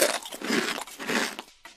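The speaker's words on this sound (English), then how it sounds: "Few things crunch as loudly and proudly as potato chips." Potato chips crunch in several close, crisp bites, each a sharp, brittle crackle, with a short pause before the last one.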